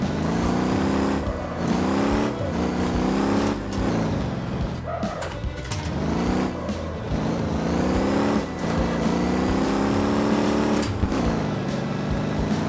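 A car drifts in the Motor Town driving game, its engine droning and revving loudly and continuously, the pitch rising and falling with brief dips as the throttle is worked.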